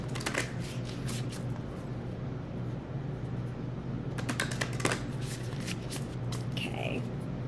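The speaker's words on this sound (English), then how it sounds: "Let's give them a ruffle shuffle" Ruffle shuffle of a deck of playing cards, quick bursts of riffling near the start and again in the middle, over a steady hum with a voice speaking faintly.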